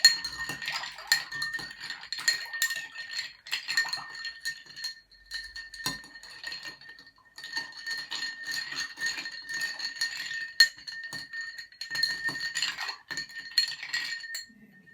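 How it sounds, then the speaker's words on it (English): Ice clinks and rattles steadily as it is stirred in a mixing glass for a classic martini, a close, continuous bright tinkling in several stretches with brief pauses and no talking. "Stir it up really well so that ice cools down, starts to melt a little bit."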